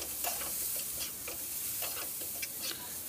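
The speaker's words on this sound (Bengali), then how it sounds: "নারকেল দিয়ে ঝিঙেটা বেশ ভালো করে ভেজে নিতে হবে" Ridge gourd fries in a pan with grated coconut and chopped green chilli, giving a soft, continuous sizzle broken by repeated scraping strokes of a stirring spatula, fairly quiet with no voices.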